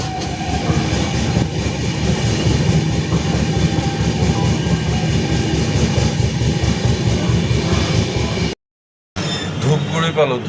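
A long-distance passenger train rolls along the rails through Assam near Dhupguri, with a continuous rumbling, clattering ride heard from on board, cut by a brief silence near the end.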